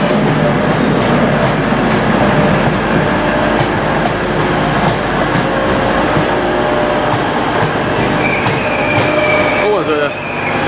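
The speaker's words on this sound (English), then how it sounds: "there's another Transpennine, new Transpennine one coming in here" A new TransPennine train rolls into a large station platform with a loud, steady rumble of wheels on rail, faint squeals and clicks, and a brief drop in noise near the end.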